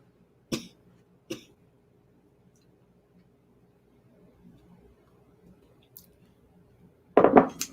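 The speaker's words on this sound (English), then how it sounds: "coughing is not fun on your lower back" Two short, sharp coughs close by, then quiet, followed by a louder cluster of coughing or throat sounds at the end.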